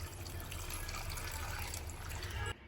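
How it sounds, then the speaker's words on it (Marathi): Water splashes steadily onto potted plants such as a rose bush at home, a continuous close pouring and spattering that stops abruptly near the end. "टाकून घेतले झाडांना पाणी."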